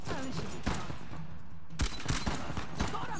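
Rapid volleys of gunfire in a shooter video game: dense bursts of close, cracking automatic fire, a brief lull, then another sustained burst, with no talking.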